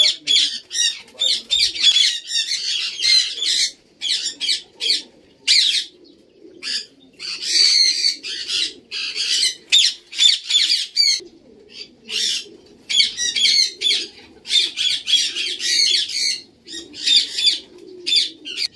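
Many kinds of birds in a breeding loft, mostly pigeons, keep up a dense run of squawks, calls and coos with bursts of wing flapping, close and fairly loud, continuous with brief gaps.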